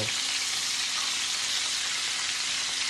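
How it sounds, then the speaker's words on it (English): Chicken pan-frying in a skillet gives a dense, even sizzle that holds steady at close range without pauses. "Then you're going to flip it over and let it fry for 5 minutes on this side also."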